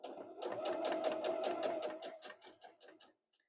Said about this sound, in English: Again, every sewing machine is just a little bit different.